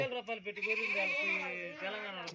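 Sheep bleating in a long, wavering, close cry that carries across most of the moment, with shorter calls at the start, at a flock of ewes and lambs offered for sale on a farm.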